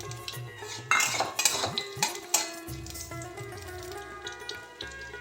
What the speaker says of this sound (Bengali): দিয়ে একটু একটু সুগন্ধ ছড়ানো পর্যন্ত নেড়ে নেব দেব অল্প আদা আর কাঁচা লঙ্কা কুচি